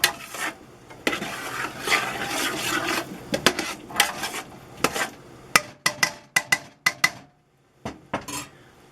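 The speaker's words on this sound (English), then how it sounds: "Get that all stirred up." A spoon stirring gluten-free stuffing in a metal pot, with repeated scraping and clanking strokes, then sharp separate knocks on the rim near the end, close and clear with no talking.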